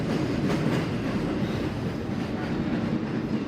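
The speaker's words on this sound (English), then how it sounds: "Boston has America's oldest subway system." A Boston Red Line subway train rumbles steadily along the rails of America's oldest subway system, a continuous loud roar with faint clatter throughout.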